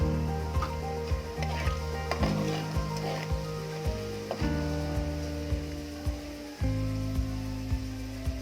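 Cumin seeds hit hot oil in a pan over a high gas flame and sizzle steadily, with a bright crackle running through the whole stretch beneath loud music.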